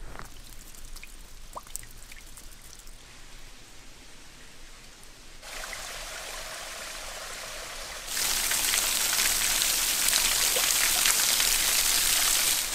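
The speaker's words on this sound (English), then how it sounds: "getting your water for breakfast here at this little beautiful moss-covered cascade" A small moss-covered cascade in New Zealand's Kea Basin splashes and trickles steadily nearby, growing louder and fuller partway through, with scattered drips.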